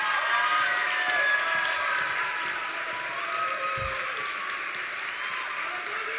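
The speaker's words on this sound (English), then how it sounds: "give them a round of applause" At an honors college induction ceremony, the audience gives the student performers a sustained round of applause, with even clapping that fills the hall steadily from start to end.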